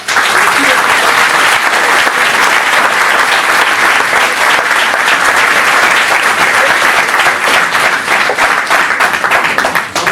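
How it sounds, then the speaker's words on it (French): Loud, sustained applause from a large audience, dense clapping filling the whole stretch without pause. "je vous demande déjà, dès maintenant, de les applaudir très fort"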